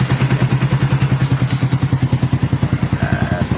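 A Yamaha Sniper motorcycle engine, running after a throttle position sensor install, idles close-up with a fast, loud, even chugging thump, a steady pulsing rhythm that holds throughout.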